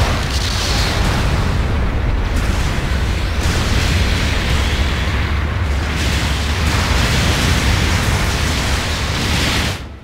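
Heavy, sustained explosion roar as a mobile suit is destroyed in a Gundam video game, loud and unbroken with deep rumbling booms, cutting off abruptly at the end.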